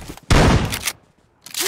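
Gunfire in a video game: a loud close burst of shots followed by a quieter second volley after a short gap, with faint game noise between.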